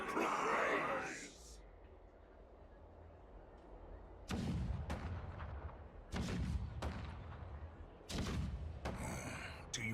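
Cannon fire rumbles in the Honkai: Star Rail video game, several heavy booming blasts with long rolling decays, spaced a second or two apart over low ambient noise, with speech-like sighs around them.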